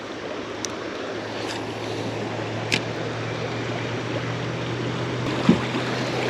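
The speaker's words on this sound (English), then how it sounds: "we got some rapids of it, huh?" A small boat on a river fishing trip running through rapids: a continuous rush of churning water and wind noise, with a few faint knocks and splashes, and no voices.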